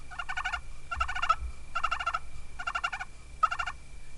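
Five short bursts of soft, rolling purrs from a turkey call imitating young birds, evenly spaced with brief pauses between, fairly close and clear over a quiet background, during western fall turkey hunting.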